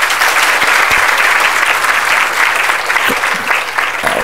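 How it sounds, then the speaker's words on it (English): Loud, sustained applause from a room full of people at an architecture college, a dense and even wash of clapping that fades slightly toward the end. "give a big round of applause"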